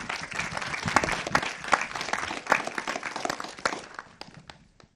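Audience applauding speakers and an illustrator at a public talk on the COP 16 biodiversity conference, steady dense clapping from a seated crowd that fades out over about five seconds.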